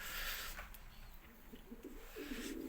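Pigeons in a loft cooing softly, low rounded coos that grow more frequent toward the end, faint and distant over a quiet background hiss.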